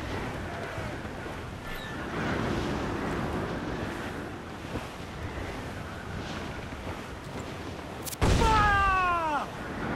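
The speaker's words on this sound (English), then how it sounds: "Dark skies and rough seas there!" Rough sea and gusting wind in Assassin's Creed Black Flag, a steady wash of surf with wind buffeting throughout, and a louder burst near the end carrying a high creaking, whistling sweep.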